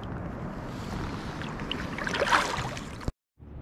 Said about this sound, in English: All you hear is the sound of the running water.